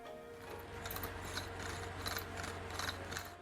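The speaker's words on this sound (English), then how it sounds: "You drill a hole by pulling and pushing the bowl as if you were playing erhu." A porcelain mender hand-drills a hole in a broken porcelain bowl, pushing and pulling it against the bit in a bow-like motion, giving a faint, steady rasping scrape that pulses rhythmically over a low mechanical hum.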